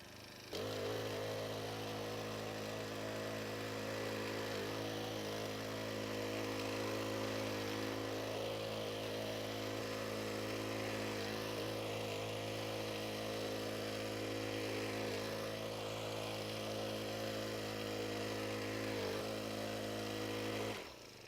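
A small petrol garden tiller engine runs steadily while churning soil for an onion bed, a close, loud droning hum with slight rhythmic dips as the machine is drawn back, starting and stopping abruptly.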